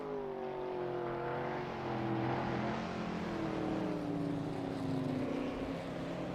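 Engines of many race cars drone together on track at Calabogie Park in a racing video game, a dense steady roar of overlapping engine tones rising and falling slightly, fairly quiet and without talk.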